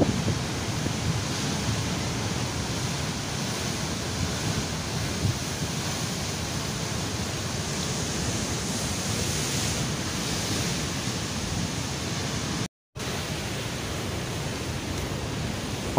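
Ocean surf and strong wind at a hidden beach, Pantai Solokan Saat near Surade, forming a loud, continuous broadband roar with rushing waves and wind buffeting the microphone, broken only by a brief dropout.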